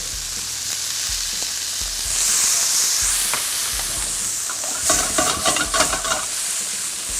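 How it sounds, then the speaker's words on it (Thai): Pork sizzling and stir-frying in rendered pork belly fat with a splash of Chinese wine, a steady close frying hiss with intermittent scraping and stirring clatter that grows busier toward the end. "ผัดหมูให้หอม เราจะมีน้ำมันหมูจากหมูสามชั้นที่เรา ซอยไว้เมื่อกี้ด้วยนะครับ"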